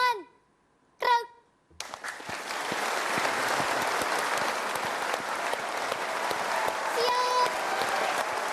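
A young police cadet troupe claps hands on command, a brief burst of shouted orders giving way to sustained, full applause that carries on evenly to the end.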